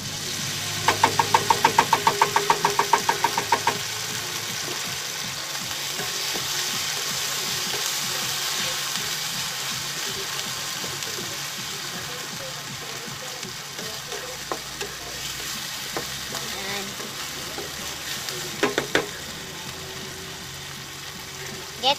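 Sardines fry in a pan for budget bihon, giving a steady crackling sizzle throughout, with occasional clatter and a few louder pops toward the end.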